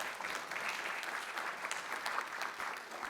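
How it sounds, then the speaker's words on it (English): An audience applauds steadily at a Riverside County Board of Supervisors meeting marking California's 175th anniversary of statehood, a dense, even wash of clapping hands that holds at moderate level throughout. "Hey, just give Karina a round of applause."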